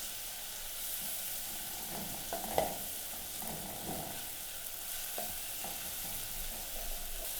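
Onions cooking in oil in a pan for pizza sauce, with a faint, steady hiss of frying and soft stirring scrapes throughout; no speech.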